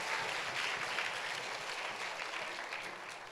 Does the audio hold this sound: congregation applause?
yes